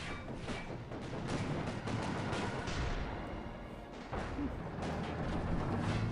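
Gunfire in the video game Company of Heroes 2, dense bursts of shots and heavy thuds rolling together in a loud, continuous battle din, with soldiers' voices calling out beneath.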